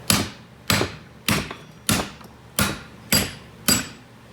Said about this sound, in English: get you a socket that fits over that U-joint but inside the bore, and just start hammering